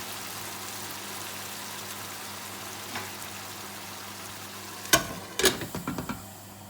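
Fresh tomato sauce bubbling gently over low heat in a pan, a soft steady simmer with a few louder stirring clatters and pops near the end.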